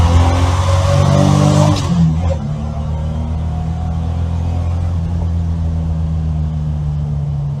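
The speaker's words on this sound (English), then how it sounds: "I'll just open it up a little bit for you so you can hear the engine go." A Holden LC Torana GTR XU-1 classic car engine, run again after sitting 36 years, revs up loudly, then settles into a steady, rumbling idle that carries on without interruption.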